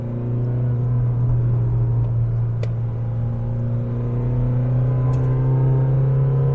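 The 2.2-litre engine of a Mazda BT-50 double-cab pickup hums steadily, rising gradually toward an upshift. The low, even drone is heard from inside the cab with faint clicks and no talk.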